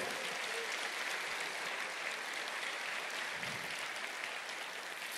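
Church congregation applauding during a Portuguese-language sermon, a steady, dense wash of many hands clapping at a moderate distance, sustained evenly with no voices on top.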